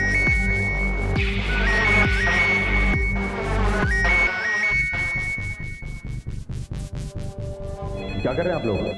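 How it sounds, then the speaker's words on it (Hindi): A telephone rings repeatedly in a steady pattern, loud and close, with music and a voice mixed underneath. "फोन आ गया।"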